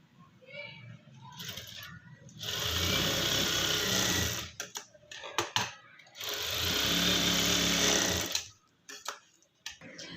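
A sewing machine stitches a collar neck in two steady runs of about two seconds each, separated by clicks and fabric handling.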